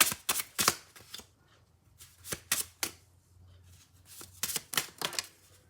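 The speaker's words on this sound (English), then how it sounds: "Keep shuffling." Tarot cards are shuffled by hand in quick bursts of crisp riffling and flicking, separated by short pauses, close and clear.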